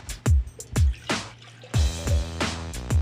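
Water pours and drips in short, repeated splashes for a flood-barrier measuring test in an elementary science experiment, with close, distinct bursts and brief pauses between them and no talking.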